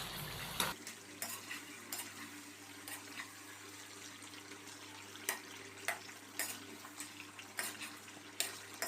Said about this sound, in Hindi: अभी हम चम्मच की मदद से इस तरीके से ये देखें टमाटरों को इस तरीके से मैश कर देंगे।